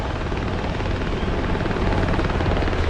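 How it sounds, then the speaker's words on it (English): A helicopter in the DCS flight simulator passes with a loud, dense rotor roar and rumble that holds steady and swells slightly toward the end, heard alone without voices. "We've got a helicopter coming across."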